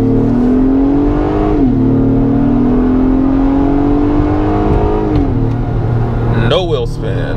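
A 2022 Acura MDX A-Spec with super handling all-wheel drive accelerates hard, its engine note rising steadily while holding a gear, then dropping briefly at a shift before climbing again, with a voice talking over it.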